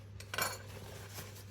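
A spoon is wiped dry after washing at a home kitchen sink while cooking a roast beef dinner, giving a few light metallic clinks of cutlery against dishes, quiet and close, over a steady low hum.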